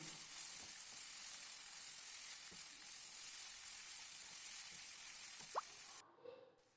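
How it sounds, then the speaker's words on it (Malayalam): Chopped onions hitting a hot pan for chicken biryani masala, a continuous bright sizzle with occasional soft stirring knocks and drips, cutting off abruptly near the end. "ആ ചട്ടിയിലോട്ട് തന്നെ ഉള്ളി ചേർത്ത് കൊടുത്തിട്ട് നന്നായിട്ടൊന്ന് ഇളക്കി കൊടുക്കും"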